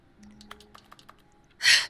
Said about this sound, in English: I love how me clicking the buttons sounds like a keyboard